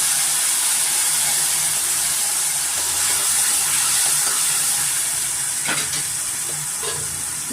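Tamarind juice poured into a hot pan for temple-style puliyogare sizzles and hisses loudly and steadily up close, with faint stirring clinks near the end.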